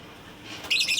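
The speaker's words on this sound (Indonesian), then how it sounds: "Kicauan burung-burung" Pet jalak kebo mynas chirp briefly near the end, a short burst of bright calls after near silence, close and fairly clear.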